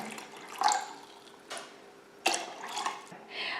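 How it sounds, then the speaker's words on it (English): Distilled water pours into a container in a few short bursts of splashing and trickling at close range, with quiet pauses between them. "So now I'm going to add 550 grams or liters, again, they're basically interchangeable, of distilled water here."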